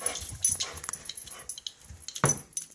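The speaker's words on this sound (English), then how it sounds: "home alone with his dog when it seemed to react very strangely to something in his bedroom" Dog whimpering and yipping uneasily indoors in a home bedroom, several short strained bursts close by, with a louder cry near the end.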